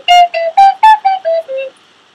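Seven short detached notes come from a plastic flutophone, a toy recorder, each tongued separately with brief gaps between them. The last notes step lower and softer before fading, played up close with no talking.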